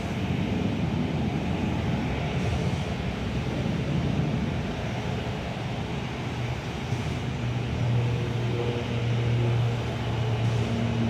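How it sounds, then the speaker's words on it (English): A Penjet airliner rolling for takeoff at Perth airport, heard as a steady distant engine roar and rumble that holds for about ten seconds, with a rising whine emerging toward the end. "We've already got the Penjet aircraft rolling"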